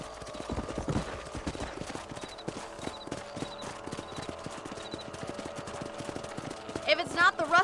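Horse hooves clip-clop in a steady rhythmic gallop in Red Dead Redemption, with a western game score playing over them and a short burst of brighter noise near the end; a voice is also present.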